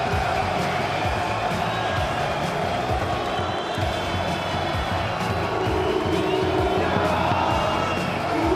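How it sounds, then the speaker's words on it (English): Big arena crowd of FURIA fans cheering at an IEM Counter-Strike esports match: a loud, constant wall of cheering and chanting, with claps and thumps mixed in. "The crowd loves it."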